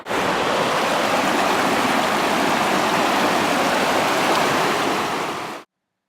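A mountain stream rushes and splashes over rocks on a hiking trip to Mount Isolation, a loud, steady broadband roar that continues without a break and then cuts off abruptly near the end.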